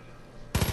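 Burst of automatic gunfire from the Far Cry 5 video game, a rapid run of four or five loud shots that breaks in abruptly after a quiet stretch.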